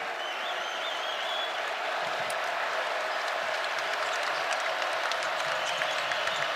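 A capacity crowd at a Georgia Tech versus Virginia men's college basketball game applauds and cheers in a steady, dense roar that lasts throughout.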